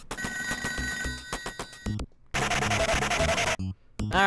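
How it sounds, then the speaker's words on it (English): A telephone rings in the video game Toejam & Earl, the bright electronic rings coming in repeated bursts split by short silences amid game sounds. "I think I hear a phone."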